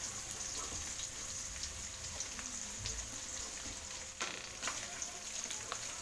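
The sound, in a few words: shallots and garlic sizzling in frying oil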